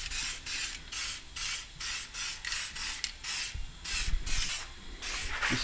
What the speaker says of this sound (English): Just spraying down the frame with M-Soil heavy duty metal protector.